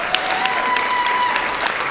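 Steady applause from an audience at a school district online academy graduation, continuous clapping across the whole stretch with no voices over it.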